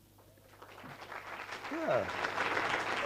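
Audience applause at a university student orientation, swelling from faint to a full, steady round of clapping; a voice speaks briefly near the start.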